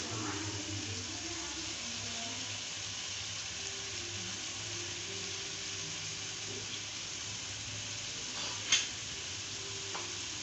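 Okra being stirred into frying masala in a pan, a soft, steady sizzle with faint scraping of the spoon, quiet and close, plus one brief sharp clink near the end.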